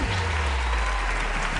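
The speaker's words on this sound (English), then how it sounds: "They're cheering for him." A crowd cheers and applauds steadily at a live psychic show, a dense, continuous wash of clapping and shouting that fills the space and stays loud throughout.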